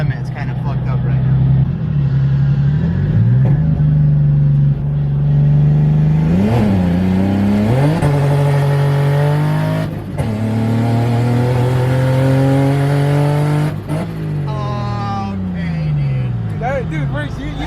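A turbocharged BMW E36 with a misfire revs hard while driving, its engine note climbing and dropping through repeated pulls with sharp shift breaks, loud and close from inside the car, with people talking over it.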